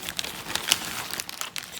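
Plastic packet of a LEGO Disney 100 minifigure crinkles and crackles close up in short, irregular bursts, with sharper snaps now and then and no voices.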